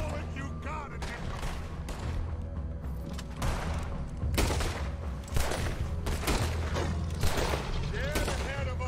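Repeated gunshots in Red Dead Redemption 2, a volley of loud cracks and booms with mechanical clicks between them, under a voice.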